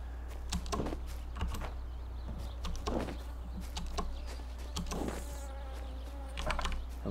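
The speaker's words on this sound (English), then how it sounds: "Avoid the bees." Bees buzz in a fantasy video game, several short droning buzzes rising and fading in a loose rhythm over a constant low game hum.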